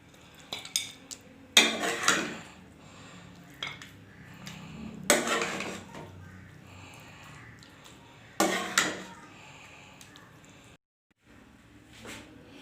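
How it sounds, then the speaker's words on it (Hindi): Shalgam gosht curry, turnip and meat, is ladled onto a plate: a few distinct clinks and scrapes of a metal spoon against dishware, spaced apart, close and fairly clear. "अभी मैं प्लेट में सर्व कर।"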